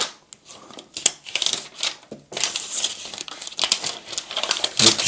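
Paper packaging being unwrapped from an AirPods Max 2 headphone case, close and crisp, with repeated crinkling and rustling bursts that come and go in uneven rhythm, no talking.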